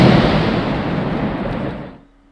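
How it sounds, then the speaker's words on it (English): A loud rumbling wash of fireworks cake explosions from the game Fireworks Mania rolls on steadily, then cuts off abruptly and leaves near silence. "I like the pace, the explosions"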